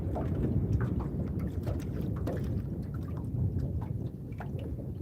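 Steady wind rushes around a small fishing boat on open water, a constant broadband roar with faint patters and light knocks scattered through it, and no speech.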